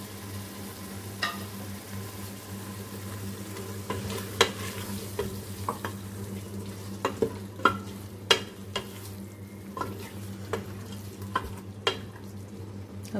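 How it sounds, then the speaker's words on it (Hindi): Potatoes and peas frying for aloo matar in a pan, with a steady low sizzle throughout and intermittent scraping clicks of a spoon stirring against the pan, close and unaccompanied by talk. "अब इन दोनों चीज़ों को उसमें डाल के 1 से 2 मिनट भून"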